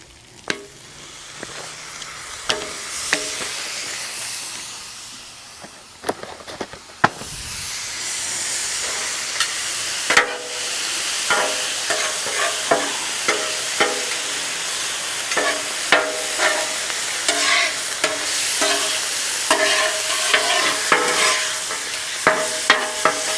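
A cheesesteak sizzles on a Blackstone 28-inch folding-leg griddle, a loud continuous frying hiss broken by frequent sharp metal spatula scrapes and clanks.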